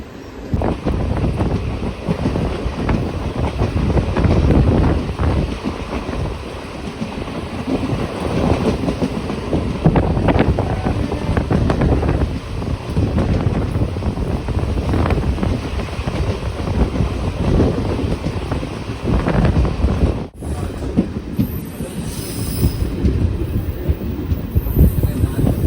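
Madurai-Coimbatore Intercity Express running, heard from inside a lightly occupied coach: a loud, steady broadband rumble of wheels and wind, with a brief drop near the end before the noise resumes, no voices.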